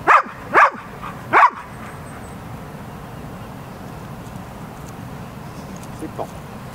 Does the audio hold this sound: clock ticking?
no